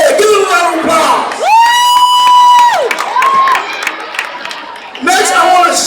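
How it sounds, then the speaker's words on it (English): A school crowd at a morning assembly cheers and whoops loudly for the cross country team, with sustained shouted voices rising and falling, the noise swelling again near the end. "Give them a round of applause!"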